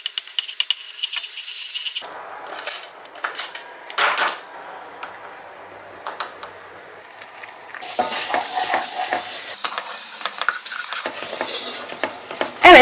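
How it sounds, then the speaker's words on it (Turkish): A spoon stirs flour roasting in melted butter in a pot, making soft scraping and clinking strokes at close range. The strokes come in bursts with short pauses, and a brighter, busier stretch of scraping and rattling comes near the end. "Tereyağlarım eridikten sonra 1 yemek kaşığı un koyacağım ve unumun koku çıkana kadar güzelce kavuracağım."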